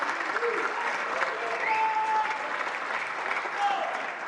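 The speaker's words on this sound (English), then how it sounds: "A big round of applause to all of our undercard and our prelim panel." A crowd at a boxing press conference in Riyadh for Jake Paul versus Tommy Fury applauds steadily, a dense, even wash of clapping lasting several seconds with occasional whistles cutting through.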